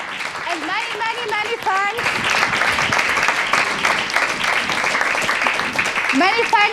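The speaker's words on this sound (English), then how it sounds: "Applause for her." Audience applause for a panel moderator at a discussion event, loud sustained clapping from a crowd with a speaker's voice running over it at the start and end.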